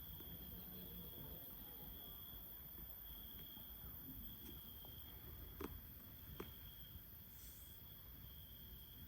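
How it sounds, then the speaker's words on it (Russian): Crickets chirp at night in a steady, faint, continuous high trill over quiet outdoor background, with a couple of soft clicks near the middle. "Сверчки."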